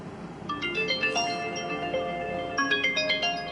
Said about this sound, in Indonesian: Bos Xiao, HP kamu bunyi.